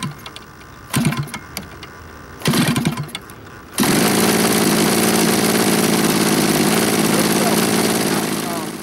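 A gas-powered RC plane engine sputters through two short cranking bursts, then catches and runs at a loud, steady, buzzing high-rpm drone close by for several seconds.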